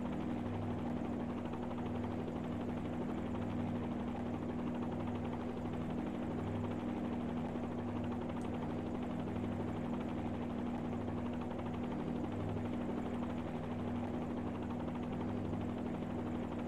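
A helicopter hovers in a flight simulator game, a steady, unbroken rotor-and-turbine drone with a constant hum throughout and no talking.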